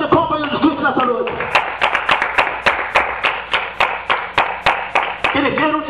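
Rhythmic, evenly spaced claps ring out in a church service, following the beat for several seconds, with a voice talking before and after the clapping.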